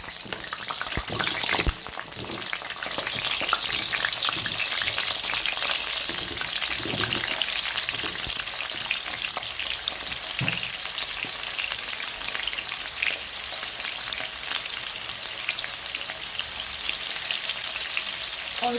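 Potatoes fry in hot white oil in a wok, giving a loud, steady crackling sizzle throughout with occasional clinks of stirring and no voices.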